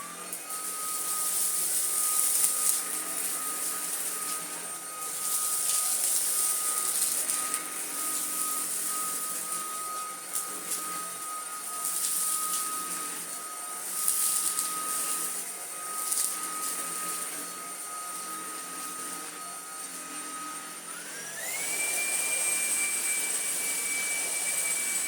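A Numatic Henry Quick NQ100 and a Tinko vacuum cleaner work over a dirty rug, giving a steady whining motor drone with a sustained high tone that jumps sharply upward near the end, continuous and fairly close.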